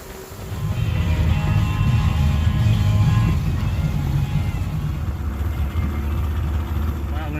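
An outboard engine on a jon boat drones steadily on a river trip, a loud low rumble that holds throughout, with someone talking over it.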